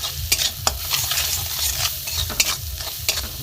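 Ground cumin, coriander and pepper masala with grated ginger fries in a pan for a soybean chop, a loud close sizzle with rhythmic scraping and stirring strokes throughout, no voices.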